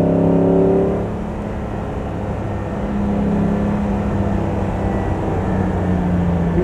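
A 1959 Mercedes 300 SL Roadster pulls away hard, its engine note rising briefly, then settling into a steady, loud drone of road and motor noise as the car keeps driving, with no voices.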